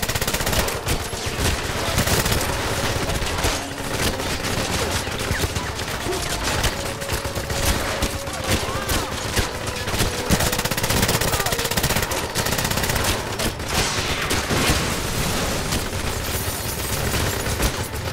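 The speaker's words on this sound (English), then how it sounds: "And I'm getting shot at." Video game gunfire in the James Bond title 007 Legends, Goldfinger mission, comes as dense, continuous automatic bursts and rapid shots that hardly let up, loud and close, with faint talk underneath.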